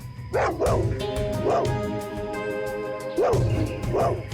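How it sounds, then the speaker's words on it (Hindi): Dog barking again and again in short loud bursts, several clustered barks with pauses between, in a tense indoor investigation scene with a low hum beneath. "शेरू बार बार उस तरफ मुंह करके भौंक क्यों रहा है?"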